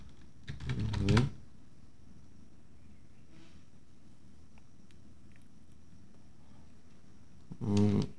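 Two short bursts of fast typing on a computer keyboard, about a second each and several seconds apart, with quiet room tone between them.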